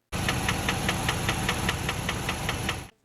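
An EarthRoamer engine with a worn, failing bearing runs with a steady, evenly spaced metallic knock repeating about four times a second over a loud idle drone, then cuts off abruptly.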